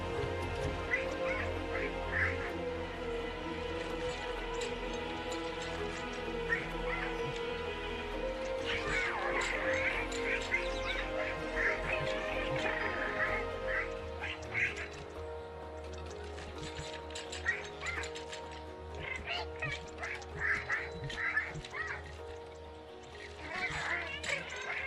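Repeated cartoonish duck quacks from a bird emote in a video game, recurring in short bursts over a steady game soundtrack with some talk throughout.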